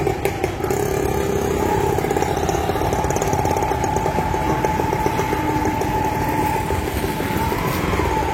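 Several auto rickshaw engines idle and putter nearby in a continuous droning clatter, with a steady whine running underneath throughout.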